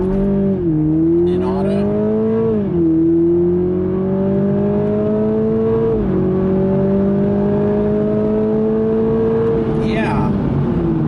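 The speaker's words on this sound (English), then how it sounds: "we're gonna do this full acceleration from the stop, and in fact, I'm gonna brake torque it slightly" A 2021 Toyota Supra with the automatic gearbox pulls hard from a standstill after brake torquing, its engine note rising through steady upshifts, loud and close inside the cabin with a voice speaking over it.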